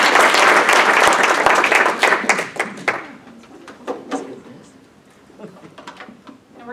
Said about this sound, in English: But again, another round of applause.